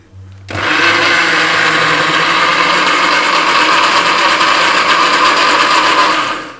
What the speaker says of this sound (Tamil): அதை லைட்டாக ஒரு மிக்ஸ் கொடுத்துருவோம்.